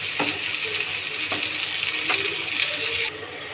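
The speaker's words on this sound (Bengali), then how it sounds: "এবার ভালো করে মিশিয়ে নেব দুটো সস দিয়েই।" Penne chicken pasta with two sauces is stirred in a hot pan, giving a continuous close sizzle with repeated scraping taps of the spoon against the metal, the frying noise dropping slightly near the end; no one speaks.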